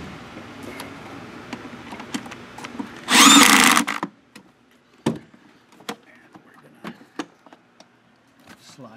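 A power tool tightens a clamp on a catch can during an RX Performance install on a Ford Focus ST: one loud, whirring burst lasting about a second, surrounded by scattered clicks and clatter of parts being handled.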